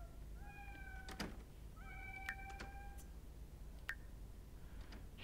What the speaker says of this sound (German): das gruselige Heulen eines geisterhaften Tieres ist einfach nervenaufreibend